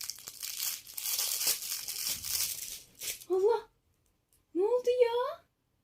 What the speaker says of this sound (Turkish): Hışır hışır ses çıkarıyor.